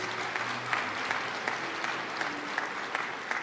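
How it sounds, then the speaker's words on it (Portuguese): A church congregation claps together during a sermon, a dense steady round of applause at moderate distance that lasts the whole moment. "Uma salva de palmas para a palavra de Deus."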